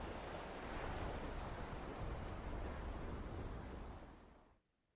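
Ocean waves surge around a boat at sea in a steady, dense wash of surf and wind that holds loud and even for over four seconds, then cuts off abruptly.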